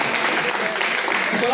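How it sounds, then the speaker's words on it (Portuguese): A church congregation claps in praise during a live service, a dense continuous patter of hands heard close, mixed with a speaking voice. "as palmas que louvam o nome do Senhor"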